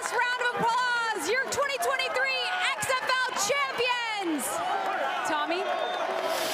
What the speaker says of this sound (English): Let's give the Arlington Renegades one last round of applause